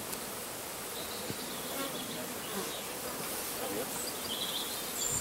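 A steady, dense buzzing of many honey bees swarming close around an open hive, continuous and fairly loud throughout with no talking.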